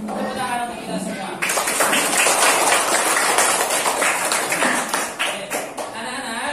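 A classroom of children applauding together, dense and lively clapping that starts abruptly and carries on for several seconds, with an adult voice heard briefly before it begins.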